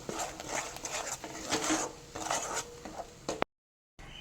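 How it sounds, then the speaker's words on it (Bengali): A paste of poppy seed, cashew and green chilli is stirred in a pan, with quiet scraping and light clinks of a utensil against metal, fairly faint, ending in a brief cut to silence. "পোস্ত কাজু ও কাঁচা লঙ্কার পেস্টটা দিয়ে একটু কিছুক্ষণ নাড়াচাড়া করে নিচ্ছে"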